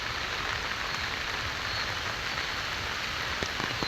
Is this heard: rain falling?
yes